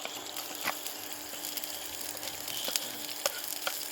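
Ginger, garlic and green chillies fry in a pan with a steady close sizzle and scattered sharp pops and crackles running throughout.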